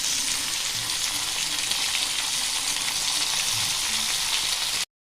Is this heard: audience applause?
no